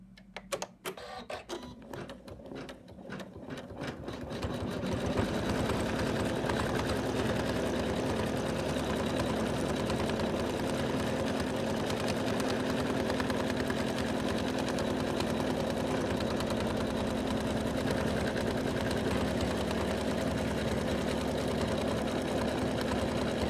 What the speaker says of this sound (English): Now it's going to do the decorative stitch around the beard and the rim of the hat.